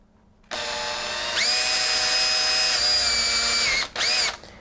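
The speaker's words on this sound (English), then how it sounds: "you want to take the magnet piece and simply drill a hole into the top." Power drill boring a hole into the top of a plastic alarm magnet piece, a steady close whine that rises in pitch as it bites, then stops briefly before a short second burst.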